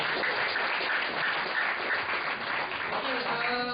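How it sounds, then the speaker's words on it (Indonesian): A crowd claps for Pak Bibi at an emceed gathering, giving a dense, fairly even round of applause that carries on at steady strength with a faint voice underneath near the end. "kasih tepuk tangan untuk Pak Bibi"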